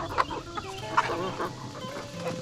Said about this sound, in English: It's so cool to have chickens.